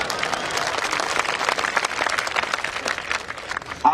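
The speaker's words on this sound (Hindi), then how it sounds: "आप जो तालियां बजा रहे हैं" A crowd at a political speech in India claps loudly in a dense, sustained burst that swells and then eases off as the speaker is about to resume.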